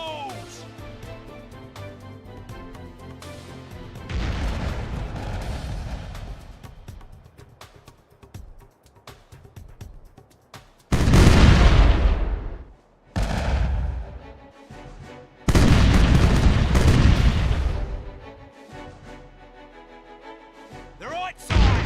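Ship cannons firing chain shot in Caribbean Legend, heavy booming broadside volleys going off in several loud bursts separated by quieter stretches, with rumbling echoes trailing each salvo.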